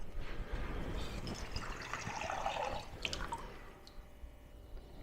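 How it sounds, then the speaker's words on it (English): Water trickling and dripping into a container to mix gelatin, close and moderately quiet, with small splashes that thin out toward the end. "Let me put a little water in here."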